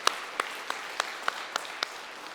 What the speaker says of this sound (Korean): 하나님께 영광의 박수 돌립시다.